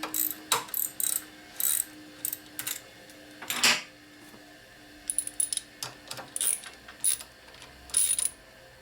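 Sharp clicking of a ratchet backing a bolt out on a custom Harley-style rigid bobber chopper, in short rapid bursts separated by pauses, close and clear with no talk.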